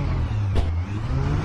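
A Mitsubishi rally car in the video game Richard Burns Rally runs with a steady, loud, low engine drone and a brief rise in pitch midway, heard alone without talk.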